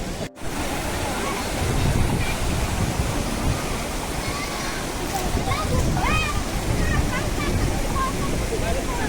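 Water rushes continuously at Manache waterfall in Devgad during monsoon, a loud, broad roar close by, with voices of people talking and calling over it.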